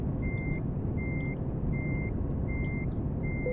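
A truck in the game Euro Truck Simulator 2 sounds its reversing alarm. Five evenly spaced, clear electronic beeps ride over a loud, constant engine rumble, with no talk.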